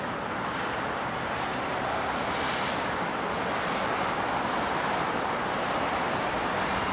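Heavy airliner departing Heathrow Airport, a steady broadband jet roar that holds loud and constant throughout, with no speech.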